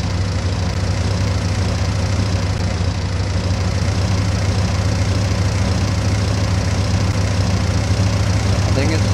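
A locomotive engine in Minecraft's Immersive Railroading mod rumbles as it warms up, a steady, loud low drone with a constant hum that holds unchanged throughout.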